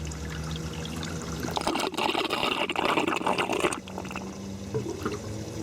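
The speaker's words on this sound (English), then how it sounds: "as the water level gets below that little cap, it'll start sucking the water out just from in the cap, which pulls it up and cuts off the siphon" Water drains through an aquaponics bell siphon, pouring and gurgling steadily, then surges louder into a sucking rush before cutting off and settling back to a quieter trickle.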